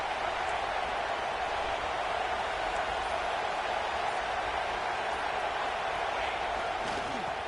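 A football stadium crowd gives off a steady, distant wash of roar and murmur, unbroken and even in level throughout, with speech faintly present underneath.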